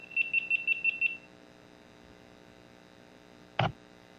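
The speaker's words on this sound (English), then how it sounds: "That was my GoPro cutting off." A GoPro camera powering off gives a quick run of six evenly spaced, high electronic beeps up close, followed by quiet room hum and a single sharp click a few seconds later.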